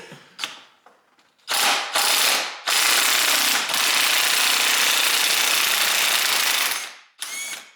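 A pneumatic impact gun works on a KTM 250SX two-stroke dirt bike crankshaft part held with threadlocker, firing in short bursts and then one long, loud continuous rattling hammer before a final brief burst, up close.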